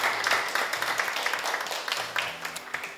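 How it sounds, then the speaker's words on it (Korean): Audience clapping at a formal Korean ceremony for donating the archival records of Dr. Woo Jang-choon, steady applause lasting throughout with some murmuring mixed in. "박수로 환영해 주시기 바랍니다."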